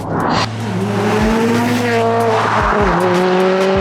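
A Subaru Impreza STI S203 engine roars and revs close by, pitch climbing through gears with brief drops at each shift, tires faintly squealing.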